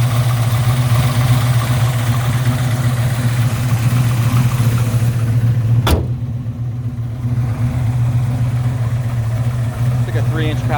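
A 1971 Chevrolet Camaro Z28 tribute with a fresh 383 stroker V8 idles with a steady, loud, lumpy rumble throughout, dipping slightly partway through after a brief sharp click, with faint talk in the background.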